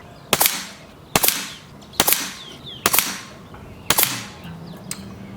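An air rifle shooting 22-grain JTS pellets at about 800 feet per second fires a five-shot group: five sharp, loud cracks spaced roughly a second apart, each followed by a brief ringing tail.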